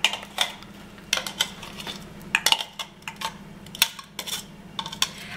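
A large spoon scrapes chopped onion out of a kitchen chopper, giving a string of light metallic clinks and scrapes against the bowl, irregular and close, with no talking.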